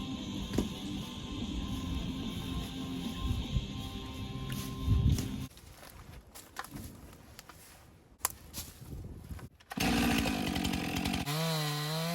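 Chainsaw cutting up felled trees during winter preparations. It runs steadily at close range for about five seconds, then drops into quieter idling and sputtering with a few sharp knocks, and returns loud and revving near the end.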